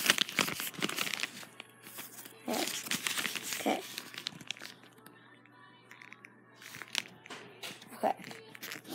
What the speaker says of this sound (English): And just rip the newspaper into little pieces